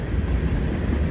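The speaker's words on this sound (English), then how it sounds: "I apologize for the train noise." A passing train near a riverbank rumbles in a steady, loud low roar with no break, filling the whole stretch without voices.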